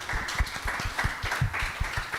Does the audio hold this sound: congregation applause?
yes